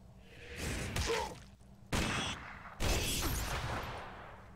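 Gunfire strikes at the player in the dungeon game Legend of Grimrock II: three sharp impacts with swishing whooshes, each loud and abrupt, then decaying, with no voices.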